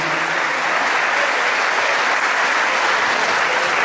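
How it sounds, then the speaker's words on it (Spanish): Crowd at a national guitar festival concert applauding vigorously, a loud, sustained, uniform roar of clapping from a large audience with no break. "Fuerte, fuerte el aplauso."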